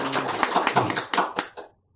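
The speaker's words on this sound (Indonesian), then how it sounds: "Tepuk tangan dulu teman-teman." Audience applause at a talk-show style event: a brief burst of many hands clapping close by, dense at first and then thinning into a few claps before stopping.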